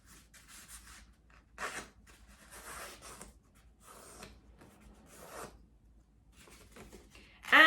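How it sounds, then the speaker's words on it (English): Paper folded and torn for a cut-out turkey: soft, intermittent rustling and scraping bursts, quiet and close, ending in a sharper, louder tear. "And then we're going to open it and tear."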